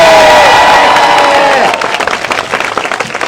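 A crowd applauds and cheers at the christening of Samantha Davies' boat ahead of the 2022 Route du Rhum. The clapping is loud and dense, then thins to scattered claps and murmuring after about two seconds.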